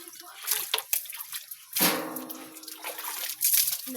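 Water splashes and runs in uneven bursts while someone washes during a bath, close and fairly loud, with voices talking and exclaiming over the sloshing.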